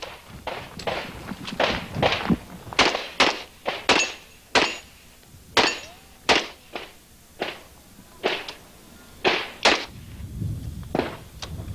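Rapid pistol fire at a USPSA practical shooting competition, a long string of sharp, loud shots in uneven bursts with brief pauses, including a short break for a reload.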